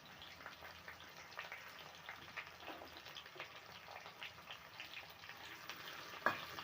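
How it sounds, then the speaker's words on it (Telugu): Onions and fenugreek seeds with curry leaves fry in a pan for a taro root tamarind stew, a steady soft crackle with scattered pops and one sharper clatter near the end, no voices. "కొంచెం ఆనియన్స్ వేగనిద్దాం"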